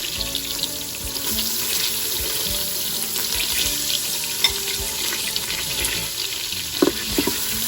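Garlic, three teaspoons of it, frying in hot oil in a pan while cooking shish kabob with yellow rice, a steady loud hiss and crackle that runs unbroken, with a few light clinks of a utensil near the end.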